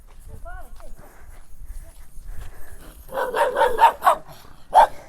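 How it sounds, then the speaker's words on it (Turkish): An unchained dog barks several times in a rapid burst, moderately close, then one more sharp bark after a short pause; quiet background before. "Bir şey diyeceğim köpek var burada bağlı değil de"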